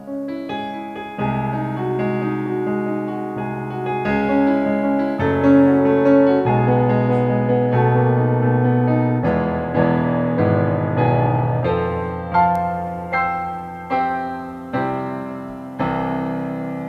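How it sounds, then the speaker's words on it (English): Rich grand piano voice on a Yamaha Genos 2 keyboard: chords and melody ring out with sustained, resonant notes, ending in a series of separate struck notes fading one after another; no voices. "It's like just like hearing a grand piano."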